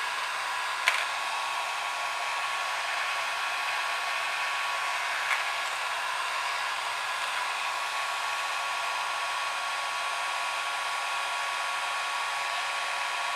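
Continuous steady roar of a Tacklife 1500W heat gun blowing hot air, a constant whooshing hiss close by with a couple of faint clicks.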